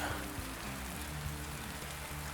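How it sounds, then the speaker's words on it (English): Light rain falls on a lake during a trout-fishing outing at Castleman Run Lake, West Virginia: a soft, steady hiss of drops pattering on the water and nearby surfaces, even and continuous with no talk. "See it starting to rain on us again there, a little bit."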